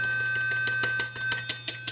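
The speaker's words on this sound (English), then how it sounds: "I think that's some kind of an alarm" A repeating electronic alarm, apparently warning about a fan in a server built from salvaged parts, pulses in short regular bursts over a constant high-pitched hum of machinery.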